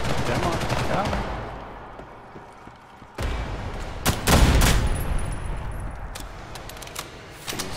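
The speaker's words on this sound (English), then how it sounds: "Some people were getting sniped." Gunfire from the online shooter Ghost in the Shell: First Assault, a rattling volley at the start, then a few sharp cracks and shots after a short lull, loud and close with a faint game voice.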